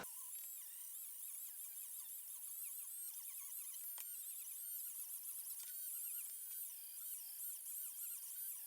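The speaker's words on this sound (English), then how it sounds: "Whenever you're sanding EVA foam," High-pitched whine of a rotary sanding tool working the edges of EVA foam costume armor, steady and close with wavering squealing tones and brief harsh bursts where it bites the foam, no voices.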